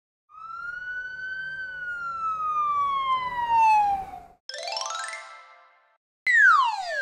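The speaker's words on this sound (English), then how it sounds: "One, two, three red police cars." A police car siren, cartoonish, from a children's colour song: a long wailing tone that slowly falls in pitch, then a short rising warble and a final quick downward sweep.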